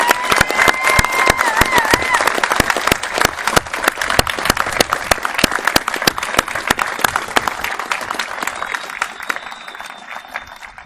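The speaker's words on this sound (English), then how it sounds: "One more big round of applause for Battalion 151 and our graduates." Audience applause at a fire academy graduation, a dense, sustained wash of many hands clapping that thins and fades toward the end.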